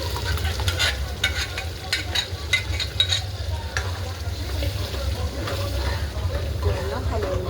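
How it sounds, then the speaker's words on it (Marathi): Cooked masoor lentils are stirred in a pan over a steady low sizzle, with a spoon scraping and knocking against the metal in a continuous, busy rhythm up close. "पूर्ण हलवून घेऊया."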